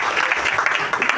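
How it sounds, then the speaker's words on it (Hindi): Loud, dense applause from a seated audience at a motivational meeting in Sirsa, steady claps filling a short burst. "जोरदार तालियां अपने लिए"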